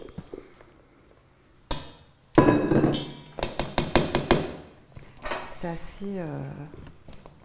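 Macaron batter mixed in a bowl with a utensil, heard as sporadic clinks and scraping knocks against the bowl that come in irregular bursts, with a quiet stretch at the start.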